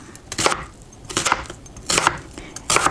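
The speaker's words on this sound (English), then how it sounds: "And then we start chopping." A knife chops an onion on a cutting board in four separate bursts of quick thuds, each burst about three-quarters of a second apart, close and crisp with no voices.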